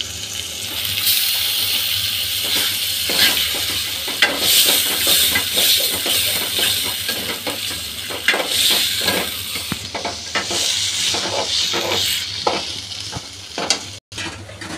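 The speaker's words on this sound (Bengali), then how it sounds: "এখন দিয়ে দেবো চিংড়িগুলো।" Prawns hit hot fried masala with a steady, loud sizzle and hiss, broken by repeated scraping stirs from a spatula throughout; nobody speaks.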